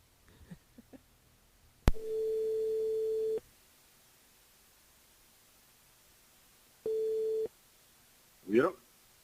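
Two steady telephone line tones sound over a call placed from a radio station to a listener. The first tone is preceded by a sharp click and lasts about a second and a half; a shorter second tone follows after a pause. Faint talk sits around them.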